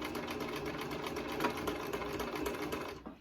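A sewing machine stitching a fabric face mask, a close, steady rapid mechanical chatter of the needle running continuously before stopping near the end, with no voices.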